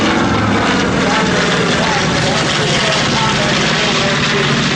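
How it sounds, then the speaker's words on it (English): A P-51 Mustang warbird propeller plane flies past at an airshow, a loud, continuous engine roar filling the whole stretch without letup. "Followed by the only P-51."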